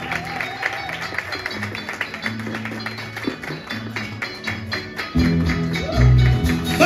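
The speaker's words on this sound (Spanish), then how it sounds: "¡Fuerte el aplauso!" Audience clapping at a cueca dance competition during a world championship night in Pamplona, scattered rhythmic claps over music and crowd noise, growing louder near the end.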